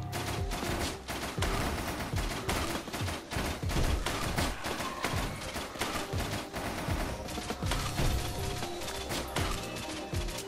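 Rapid gunfire in Risk of Rain as an enemy is shot, a relentless stream of sharp repeated shots and impacts, loud and unbroken with game effects layered on top.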